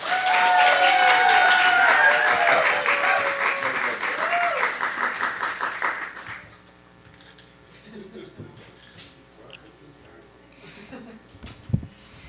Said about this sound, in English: Please help me welcome stage Charlotte Lang with a big applause.